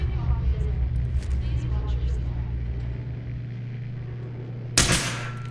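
Gunshots in Fallout 4, a few faint distant reports under a steady low hum, followed near the end by one loud, sharp, close blast.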